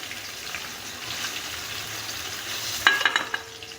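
Paneer pieces fry in hot oil with a steady, moderate sizzle, close by, with a few light clinks of a utensil near the end.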